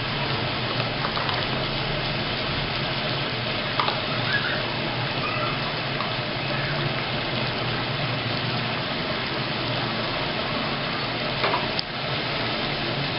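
Chicken fries in a pan with tomatoes and tomato paste, a steady, loud, close sizzle that runs unbroken from start to finish with no talking.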